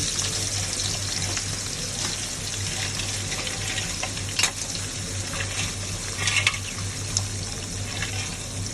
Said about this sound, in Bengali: প্রথমে কড়াইতে তেল দিয়ে নিয়েছে, এখন মেঠো কাঁকড়াটা ভাজতেছে